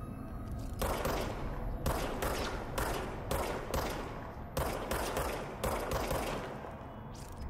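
Dense bursts of rapid automatic gunfire from the video game Control, loud and close, coming in repeated volleys separated by brief pauses.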